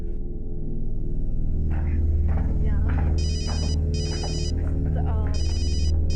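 A phone rings repeatedly in short electronic bursts while people talk over a steady background hum.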